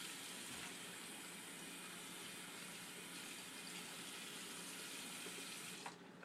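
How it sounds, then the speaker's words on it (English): Warm water runs steadily from a tap onto paper towels during a sterile dressing change, a constant close rushing gush that cuts off near the end. "and just put on some warm water."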